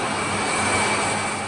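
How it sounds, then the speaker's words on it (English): A MAN marine diesel ship engine running, a steady dense roar with a faint fixed whine, unchanging and loud throughout. "the diesel engine propels most of the tonnage of all of the world's shipping"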